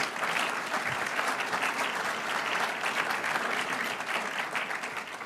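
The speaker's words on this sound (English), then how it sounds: "I think now we can clap." Steady applause from an audience of officials and guests at a military base industry day, sustained dense clapping for about five seconds with no talk over it.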